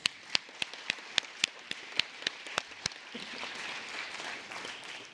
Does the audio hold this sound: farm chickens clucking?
no